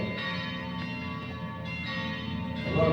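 Church bells ring out as a storm warning, a steady sustained peal of bright, overlapping tones that carries on throughout and swells slightly near the end.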